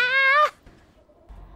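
A single cat meows in the video game Stray, one clear, drawn-out tonal call lasting under half a second, loud and close, followed by faint game ambience.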